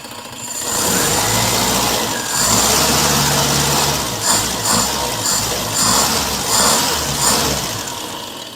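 A Toyota 4K car engine idles steadily up close, still cold, with a rough, slightly uneven rumble and occasional small surges, continuing throughout with no talking.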